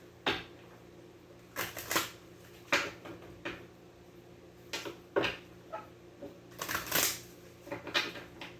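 Tarot cards being shuffled and drawn: a run of soft, brief riffles, flicks and card slaps, spaced irregularly and heard close up in an otherwise quiet room.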